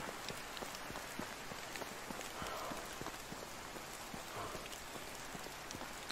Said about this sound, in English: Through the rain.